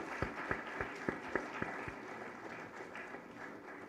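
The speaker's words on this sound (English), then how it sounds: "Give a huge round of applause for our sponsors, please." A few sparse, spaced hand claps from an audience honoring sponsors at an ICFAI women's event, fading into a diffuse, moderate wash of room noise without a full burst of applause.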